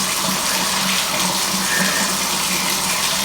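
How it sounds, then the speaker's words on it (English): Hands being washed under a running kitchen tap before making waffles, a steady close hiss of flowing water splashing into the sink, continuous and fairly loud with no talk. "So first, let's wash our hands before we get started."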